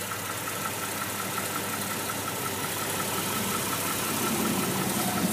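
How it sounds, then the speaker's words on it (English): A 1999 Jeep Grand Cherokee Limited engine idles steadily up close, a continuous mid-pitched rumble with a faint ticking, knocking undertone running through the whole stretch. "kind of a ticking, knocking noise. I don't know if it's a pulley or whatnot on the engine making the noise."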